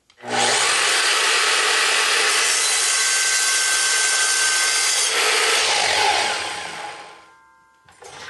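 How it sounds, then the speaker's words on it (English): A sliding miter saw slices through a piece of wood with a loud, steady whining cut lasting several seconds, then the blade spins down and fades at the end. "drop the blade on slowly and wait till the blade finishes before you remove it"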